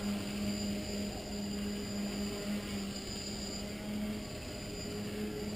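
Multiwii tricopter on a 4s battery spinning APC propellers during a night flight, giving a continuous steady motor whine with a sustained tonal buzz and no breaks, heard alone without speech.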